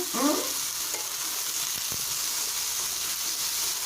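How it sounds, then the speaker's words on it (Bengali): Potatoes with turmeric sizzle and fry in a pan while being stirred, a steady close hiss with a few soft scraping strokes near the start. "দিয়ে একটু লাড়াচাড়া করে দিব, একটু হালকা কষানো মতো হবে"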